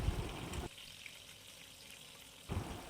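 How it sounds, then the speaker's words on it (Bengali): Two bay leaves and whole garam masala hit hot oil with a close, loud sizzle, which drops to a faint hiss for a couple of seconds before flaring up loudly again. "এই তেলের মধ্যে দুটো তেজপাতা দিলাম আর কিছু পরিমাণে গোটা গরম মশলা দিলাম।"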